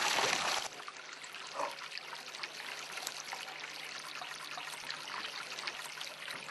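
Water trickles at a water point in Pradel, a faint, steady dribbling stream heard from close by with low background noise.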